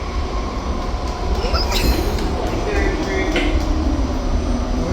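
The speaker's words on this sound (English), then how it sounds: "I'm on the train." A New York City subway train rolls along with a steady rumble, clattering wheels and brief high squeals, heard from inside a car with faint voices underneath.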